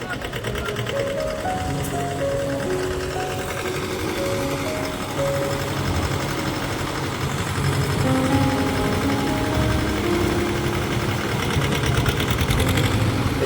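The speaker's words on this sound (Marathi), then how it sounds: "चिखलात रुपलेला ट्रॅक्टर आता बाहेर काढण्याचा प्रयत्न चालू आहे" A tractor stuck in mud, tied to a thick rope, labors steadily and loudly throughout, a continuous mid-pitched drone with a whining tonal layer shifting in pitch as it strains to pull free.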